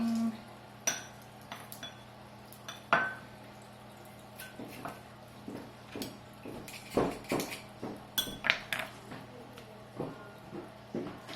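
Garlic cloves pushed one at a time through a metal garlic press, then scraped off, giving scattered metallic clinks and scrapes at an uneven pace over a low steady background.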